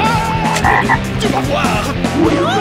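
A cartoon toad croaks loudly and repeatedly in a quick, rhythmic series of throaty pulses, up close, with a short line of speech over it.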